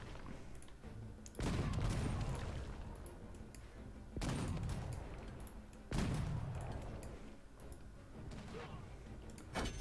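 Gunfire and explosive booms in a strategy video game, three heavy bursts a couple of seconds apart, each a sharp loud onset with a rumbling decay, over a steady background of distant battle noise.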